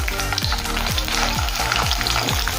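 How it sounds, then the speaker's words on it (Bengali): Steady, loud sizzling of long-cut eggplant strips frying in hot oil, with a few soft scraping stirs over the continuous crackle. "তেল গরম হয়ে গিয়েছে, এখন তেলের মধ্যে দেবো লম্বা করে কেটে রাখা বেগুন"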